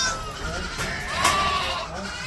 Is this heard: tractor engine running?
no